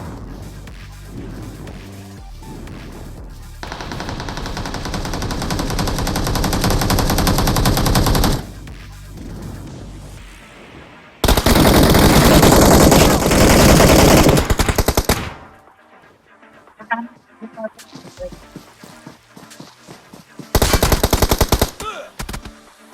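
Bursts of automatic gunfire in the mobile game BGMI (PUBG Mobile), long loud sprays of rapid shots broken by short pauses and quieter stretches, with another sharp burst near the end.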